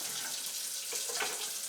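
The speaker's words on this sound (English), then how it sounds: "Put these back in the water. Rinse this." Tap water runs steadily into a sink while film developing gear is rinsed at home, a continuous close splashing rush with slight shifts in flow and no talking.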